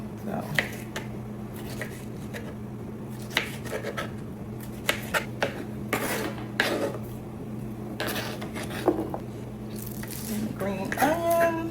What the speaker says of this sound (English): First, let's go ahead and cut up the tomato.